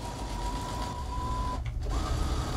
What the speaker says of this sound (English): and you will start sewing.